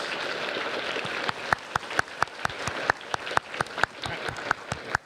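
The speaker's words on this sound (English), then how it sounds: "Please give our recipients a round of applause." Applause from an audience at a high school underclassman awards ceremony for the award recipients: a soft bed of clapping punctuated by sharp, close individual claps at an irregular rhythm.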